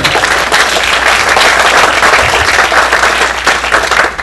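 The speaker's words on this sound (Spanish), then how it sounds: "Un aplauso nuevamente." An auditorium audience at an international scientific conference gives loud, sustained applause, a thick continuous roar of many hands clapping throughout.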